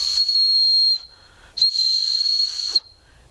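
A survival whistle from an Anglo Arms survival kit gives two loud, shrill blasts of about one second each, separated by a short gap, with breathy hiss around the tone.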